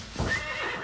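A horse whinnies in a loud, close burst lasting under a second, with a bright tonal neigh over some stable noise, in a 1990s British farm drama setting.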